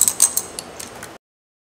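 A short run of close mechanical clicks and ratcheting ticks as the top plate of a short-throw shifter is tightened down, then silence.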